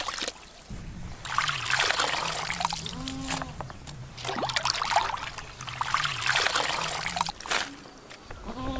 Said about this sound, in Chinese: 再来温水清洗一下